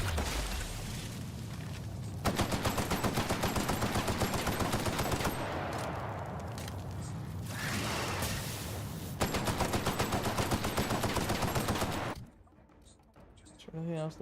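Rapid automatic gunfire in Outer Worlds: Spacer's Choice Edition, loud sustained bursts with brief breaks, then quieter game noise at the end, with someone talking over it.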